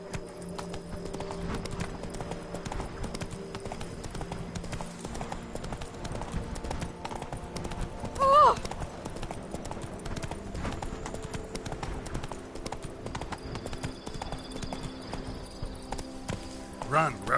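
Hooves of Geralt's horse Roach clip-clop steadily in The Witcher game, a continuous rhythmic trot under game music and ambience, with a brief louder burst midway.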